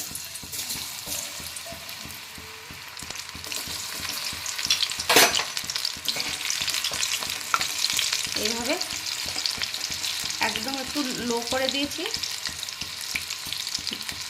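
Chana frying slowly in hot oil in a kadai over a lowered flame gives a continuous close sizzle, with occasional stirring clatters and scrapes, while someone speaks briefly over it.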